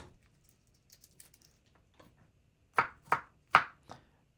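Garlic chopped with a kitchen knife on a board: a few faint taps, then three or four loud, crisp cuts close by in quick succession, alone in a quiet room.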